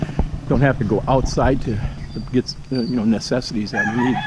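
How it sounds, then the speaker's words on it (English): Roosters crow in the background of a residential community on a morning walk, faint and intermittent beneath someone talking steadily nearby. "You can hear the roosters in the background."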